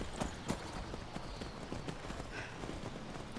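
Hooves clip-clopping at an unhurried walking pace, several horses stepping together over a soft, steady background, fairly quiet, from the video game Skyrim.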